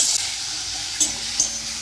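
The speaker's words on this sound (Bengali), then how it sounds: "পেঁয়াজটা বেশ বাদামি করে ভেজে নেব।" Chopped onions fry in hot oil for a fish curry, giving a steady loud hiss with a couple of brief sharper sizzling spurts, heard close with no talking.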